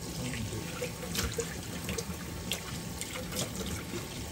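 Salted eggs are rinsed under a running tap, a steady close hiss of flowing water with small splashes and trickles throughout, no voices.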